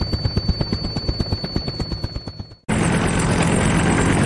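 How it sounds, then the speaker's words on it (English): Heavy lift helicopter with a loud, fast rotor chop that thuds rhythmically and fades slightly, then abruptly gives way to a dense, steady roar of engine and wash; no voices. "Heavy lift helicopter."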